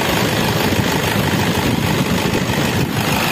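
A Toyota Innova diesel engine with a loss-of-power fault, running as a steady, loud, close low rumble that holds constant without clear rises.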